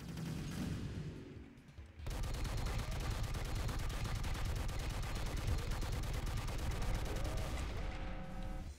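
A boss's death in a video game sets off a pyro cannon explosion, rendered as a sudden onset of dense, continuous crackling gunfire-like blasts that roar for several seconds before fading.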